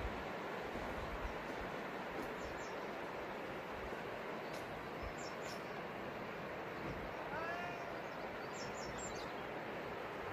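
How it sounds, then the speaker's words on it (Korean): Birds chirp faintly in short, scattered calls outdoors on a sunny day, set against a steady, loud broadband wash of wind-like noise that runs throughout. "막 새소리가 들리네"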